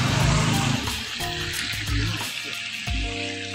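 Spices stirred into a hot frying pan with ginger, garlic and onion paste for a chicken curry make a loud, close sizzle, with scraping stirs and a few clattering knocks.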